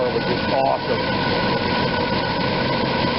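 An engine idles smoothly after new spark plugs and plug wires were fitted, a steady close low rumble under someone talking.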